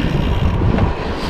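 Strong storm wind buffets the microphone of a cyclist riding outdoors, a loud continuous rumbling roar with no talk.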